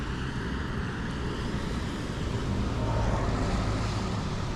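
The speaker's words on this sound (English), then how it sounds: "Listening to the car." A car passing along a road outdoors, a steady broadband rumble that swells slightly as it goes by, moderately loud and heard alone without speech.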